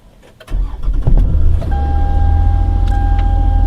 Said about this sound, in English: So I have to turn it off and then start the engine